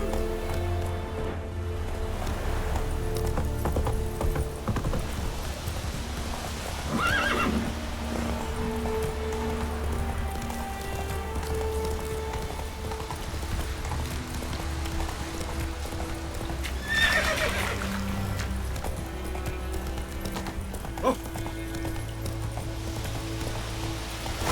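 Roach, the horse in The Witcher video game, gallops with a steady rhythmic clip-clop of hooves beneath a game music score, letting out loud whinnies twice along the way.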